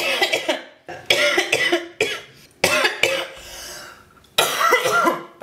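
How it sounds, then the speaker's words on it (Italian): Repeated bursts of coughing and throat clearing, fairly close and loud, with short pauses between fits, heard backstage at a make-up session for an MTV programme. "Scusate la tosse, è una tosse in plebe."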